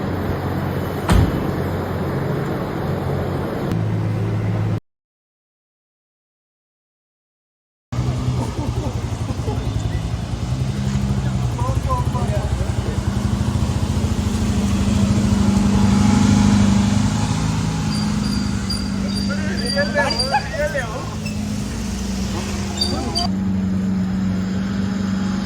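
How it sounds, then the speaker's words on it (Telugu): An Aston Martin Vanquish with a 835 hp twin-turbo V12 and quad exhaust rumbles steadily and close by, its note rising briefly mid-way, broken by a short gap of silence, with a voice talking over parts of it. "అండ్ ఇది V12 ఇంజన్ కాబట్టి దీని సౌండ్ కూడా ఎగ్జాస్ట్ నోట్ కూడా ఎక్కువ ఉంటుంది"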